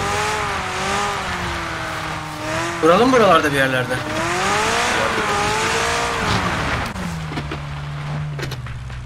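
Car in the video game PUBG driving over rough, uneven terrain, with a loud, continuous engine drone that rises and falls, a burst of tire squeal partway through and a lower rumble near the end, while someone talks over it.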